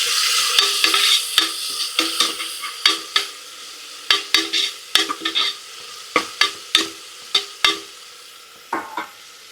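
Sliced shallots and mutton sautéed in hot oil in a pan, a soft continuous sizzle broken by repeated sharp spatula scrapes and knocks against the metal, close and steady with no talking.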